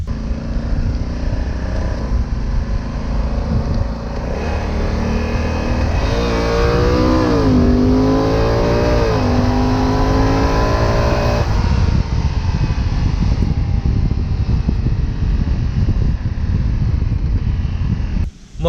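A Honda CRF 1100 Africa Twin DCT motorcycle rides hard, the engine revving up and dropping through quick automatic gear changes, loud and close under heavy wind buffeting the microphone.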